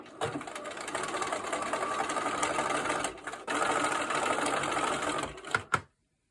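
A sewing machine stitches pieces of quilting fabric for a star sampler block in a fast, steady whir, with a brief pause midway and two short bursts before it stops.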